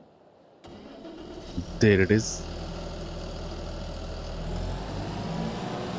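A tractor engine in a farming video game cranks and catches, then settles into a steady, low idling rumble that continues to the end, while someone speaks briefly over the start.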